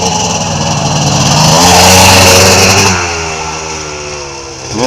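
A 1981 IT250 dirt bike engine revs hard and loud during a wheelie, its pitch climbing to a sustained peak before easing off, close and alone without talk.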